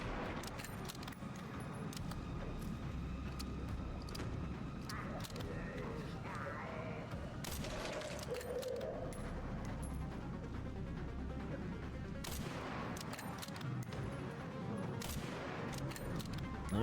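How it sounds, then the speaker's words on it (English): Gunshots fired at the chef in Resident Evil Requiem, a series of sharp, irregularly spaced shots cracking over a quiet, rumbling game backdrop, moderately loud and close, with occasional clicks and metallic handling sounds between them. "Just get shots in. Shoot him as much as we can"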